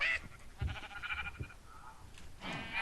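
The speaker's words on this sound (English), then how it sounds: "found some cows and sheep" Sheep in a video game bleat in a few short, wavering calls spaced apart, close and moderately loud, with no talking over them.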